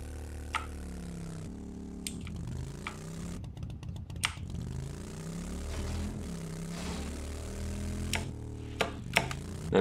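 Motorcycle engine in the 7 Days to Die Alpha 17 video game, a steady droning rumble with layered harmonic tones that shift in pitch as the throttle changes, broken by occasional sharp clicks.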